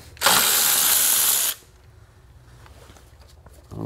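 A quick burst of ratcheting from a ratchet loosening a 10mm bolt on a BMW 4.4L V8 engine in a Range Rover, loud and close for about a second, then quiet shop background.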